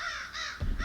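Crows caw in a short horror film, two harsh, nasal calls close together and fairly loud, followed by a low thump at the end.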